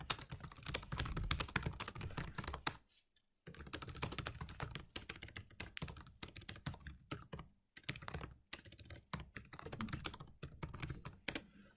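Someone types a message on a computer keyboard in rapid close bursts of clicking, broken by short pauses, with no voices.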